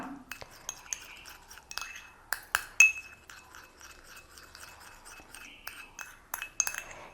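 A metal spoon clinks and scrapes against a bowl as a vitamin E face pack is mixed, with sharp irregular taps and rattling strokes close up, quiet in between.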